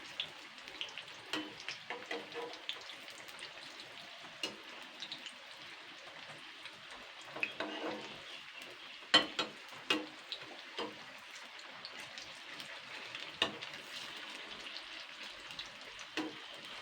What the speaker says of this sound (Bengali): এটাকে কিন্তু মিডিয়াম আঁচে ভাজতে হবে